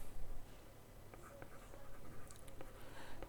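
Faint, intermittent scratching of writing on a board during a bank reconciliation lesson, short strokes sounding softly against a hissy room background.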